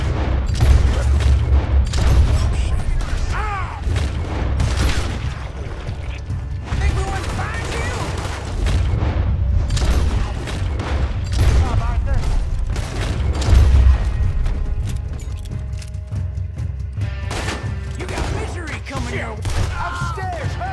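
A Red Dead Redemption 2 shootout with rapid overlapping gunshots and booming reports over a dense, loud game soundscape. Shouted voices come through at times over the continuous firing.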